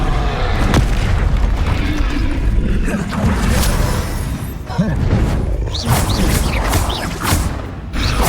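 Fiery Confringo spell blasts in Hogwarts Legacy combat: a continuous roar of heavy booms and crashing impacts, loud and close, with whooshing spell effects layered over a dense rumbling battle din.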